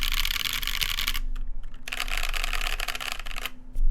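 Rapid clattering keystrokes on a mechanical keyboard fitted with ABS keycaps, a dense burst of typing, a short pause with a few scattered clicks, then another steady flurry, close and fairly loud with no voices.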